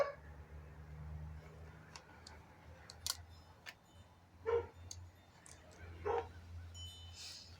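A dog barking repeatedly in the distance, sharp short barks spaced a second or two apart over a low steady background hum, faint and unbroken by talk.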